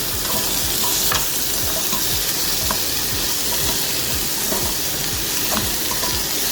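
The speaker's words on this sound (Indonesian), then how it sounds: "Jadi ubi sama wortel langsung aja dimasukkan. Nah, terus ditumis sedikit ya." Sweet potato and carrot pieces are sautéed in a pan for soup, with a close, continuous sizzle broken by frequent scraping and stirring strokes.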